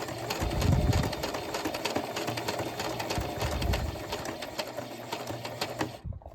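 A sewing machine runs steadily while stitching down rope to form a rope ghost, a continuous close mechanical whir and needle clatter that cuts off abruptly near the end.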